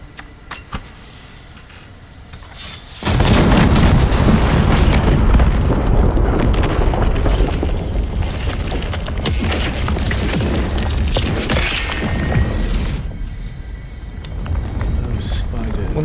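Bombs explode in the video game The First Berserker: Khazan: after a quieter start, a loud, heavy rumbling blast swells suddenly and roars on for many seconds before easing off near the end.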